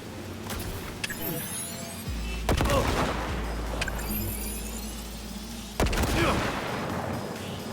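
Mines exploding in the Cyberpunk 2077 video game, with two heavy blasts a few seconds apart, each a sharp crack followed by a deep rumbling tail, over gunfire and game noise.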